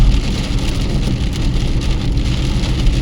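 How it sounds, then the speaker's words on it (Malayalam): Heavy rain pours onto a car and road in Dubai, a dense, loud, steady drumming wash close by with no voices. "ആഹാ, ഇവിടെ അത്യാവശ്യം നല്ല മഴയുണ്ടല്ലോ"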